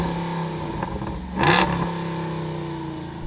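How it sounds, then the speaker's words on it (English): Jeep Wrangler 392 with an American V8 idling with a low burble, then one sharp, loud rev that flares and quickly drops back to a steady idle. "Faceless Racing driver Sam, in the Wrangler, can you rev up your American V8?"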